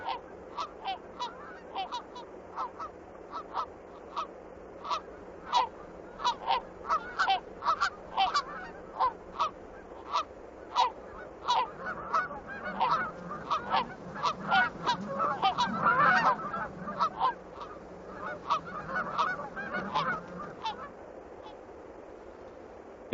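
A flock of wild geese in the Alaskan wilderness honks over and over in quick irregular calls, building into a dense overlapping chorus before thinning out near the end.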